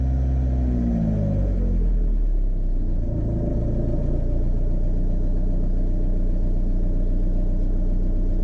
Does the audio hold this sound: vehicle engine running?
yes